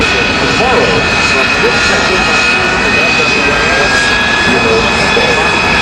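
A Sabreliner jet flies past at the 2013 Reno Air Race, its loud continuous roar and whine filling the scene steadily throughout while a voice talks over it.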